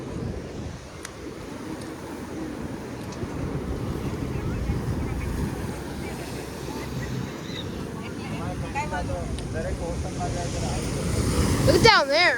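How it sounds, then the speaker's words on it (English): Boat moving on a choppy sea with big waves, heard as a low rumbling wash of water and heavy wind buffeting the microphone, swelling louder toward the end. "There goes a boat, guys."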